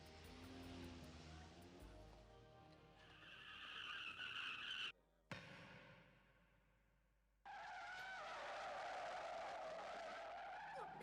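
Car tires skidding and squealing in an anime scene before the car strikes a character, a long loud screech that cuts out briefly, returns, then gives way to a sustained bright engine roar.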